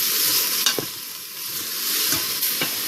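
Beef strips and peppers sizzling in an Instant Pot while being stirred, a steady close frying hiss broken by a few scraping spoon strokes, no talk.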